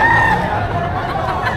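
A Blue Face Gilmore gamecock at a poultry market in Padre Garcia, Batangas crows once, loud and close, the call trailing off into steady background noise.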